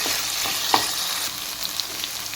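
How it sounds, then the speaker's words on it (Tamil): Masala sizzling and frying in a pan for spicy garlic chicken, a steady close crackle with a few sharp pops and stirring clicks, no talk. "நல்லா மசாலா நல்லா ஃப்ரை ஆகிடுச்சு"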